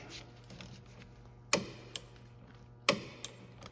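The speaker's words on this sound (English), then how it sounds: "I'm just gonna torque these up with this AWD Tools torque wrench." An AWD Tools torque wrench tightens bolts during front left CV axle work on a 2011 Hyundai Santa Fe, giving a few sharp, faint metallic clicks in pairs over a quiet background hum.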